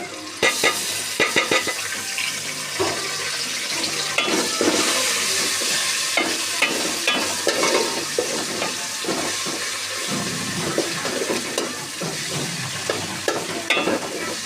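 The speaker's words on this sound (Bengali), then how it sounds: "এখন আদা রসুন দিয়ে দিচ্ছি" Ginger and garlic fry in hot oil in a pan for chicken khichuri, with a loud, dense, steady sizzle and frequent scraping stirs running throughout.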